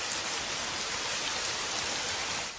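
Cartoon rain, a sudden out-of-season shower, patters down as a dense, continuous hiss of drops striking surfaces, loud and even from start to finish, with no talking.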